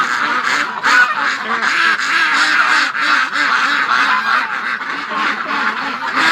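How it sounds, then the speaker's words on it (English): A flock of penned ducks quacks loudly and insistently, eager to be let out, the calls overlapping in a dense, continuous chorus close by with no pauses. "I think these ducks are louder than the flock, man."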